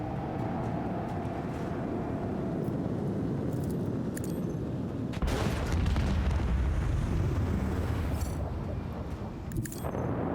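A torpedo detonates during space combat in the Warhammer 40,000: Rogue Trader video game, a broad, rumbling blast that swells midway over a steady droning background.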